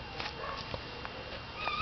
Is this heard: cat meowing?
yes